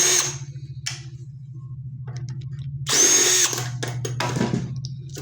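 A power drill whirs in several short bursts, close and loud, as it backs bolts out of a ceiling fan, with clanks and handling noises between the runs.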